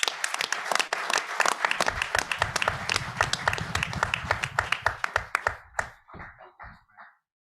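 A room of guests at a trade show executive breakfast applauds as a state senator is welcomed to the stage. The clapping is dense and lively, then thins to a few scattered claps and fades near the end.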